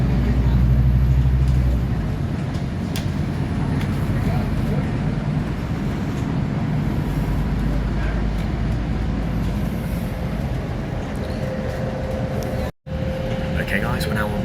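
A Scania N250 UD double-decker bus with ADL Enviro 400 MMC bodywork rumbles in and pulls up near a roadside stop, its low engine drone and road noise steady before a brief cut, with a voice talking.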